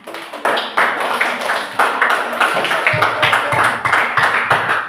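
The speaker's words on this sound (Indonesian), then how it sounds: "Silakan tepuk tangan." A classroom of students clapping for a group after its presentation, a moderately loud, uneven patter of hands with distinct separate claps rather than a dense roar.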